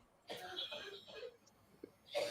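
A person coughs a few times nearby, a short burst of rough throat-clearing coughs with a pause, then one more cough at the end, in a quiet room.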